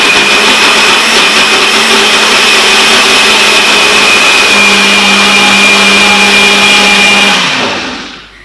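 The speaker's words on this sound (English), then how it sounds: "Now all I need to do is turn on the blender." A kitchen blender runs steadily, blending green pesto with lime juice and salt, a loud continuous whirring motor with a slight pitch rise partway through, then spinning down and stopping near the end.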